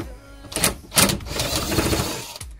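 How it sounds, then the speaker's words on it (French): An impact wrench removes the exhaust muffler bolts on a BMW E46, giving a loud, close, rattling hammering burst that runs for about two seconds. "c'est une dévisseuse à choc"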